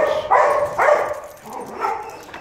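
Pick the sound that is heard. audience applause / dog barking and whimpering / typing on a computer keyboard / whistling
dog barking and whimpering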